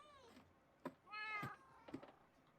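Cats in the Minecraft video game meowing: a few short, faint meows and one longer mew at low volume, spaced irregularly over a quiet background.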